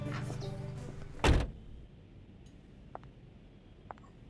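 A car door shuts with one loud, close thunk after a stretch of engine or road rumble, followed by a quiet interior with a few faint ticks and clicks.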